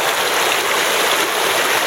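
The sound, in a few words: creek water flowing through a rebuilt dam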